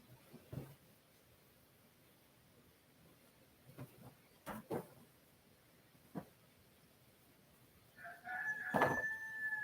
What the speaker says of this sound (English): Do you hear my rooster? He decided to crow.